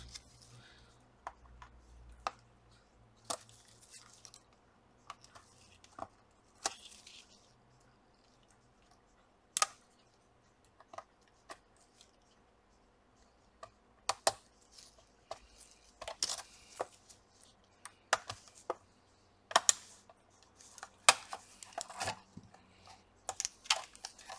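A sharp tool pries the keyboard away from the chassis of an HP 2000 laptop, giving scattered, faint plastic clicks and snaps at close range, with quiet pauses between them.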